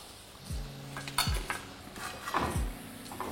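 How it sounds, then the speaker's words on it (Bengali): Pieces of fried chili chicken are lifted from the pan onto a plate, giving a few metallic clinks and scrapes of utensil against cookware over a soft background hiss. "এবার এটাকে আমি তুলে নিচ্ছি একটা প্লেটের মধ্যে।"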